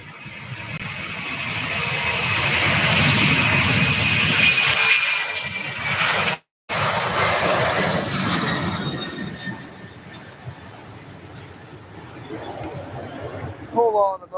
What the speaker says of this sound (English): It looks like some sort of rare aircraft is about to land at SDF